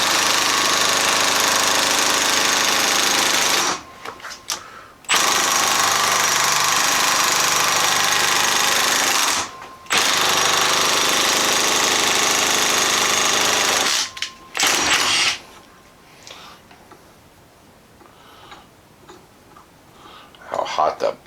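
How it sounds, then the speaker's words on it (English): An impact wrench set to its lowest torque works on a bolt during power steering pump replacement on a 1997 Jeep Wrangler TJ 2.5, loud sustained rattling bursts of several seconds separated by short pauses, fading to quieter background at the end. "And I have the impact on the lowest torque."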